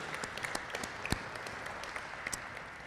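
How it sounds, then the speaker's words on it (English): Audience at a 2023-2024 school graduation ceremony applauds the parents with steady, moderately faint clapping from a crowd, a few sharper claps standing out, no talk over it. "If we can have a round of applause for the parents."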